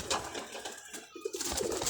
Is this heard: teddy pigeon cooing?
yes